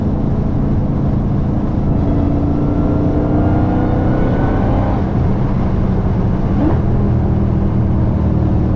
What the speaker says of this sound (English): Y'all fucking hear the downshift?